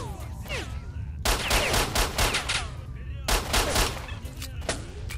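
Rapid gunfire from the shooter game Stalker: Shadow of Chernobyl, loud bursts of automatic fire starting after a second and returning in sustained volleys over steady background game noise.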